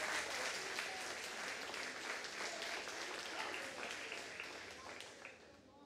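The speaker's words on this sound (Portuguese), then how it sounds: "Pode aplaudir o Senhor?" A church congregation breaks into sustained applause that fills the room as a dense, even wash of clapping, fairly faint and slowly fading at the end.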